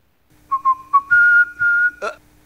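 A man whistles a short, cheerful tune, several quick notes then longer held tones, close and clear, ending with a brief sharper sound.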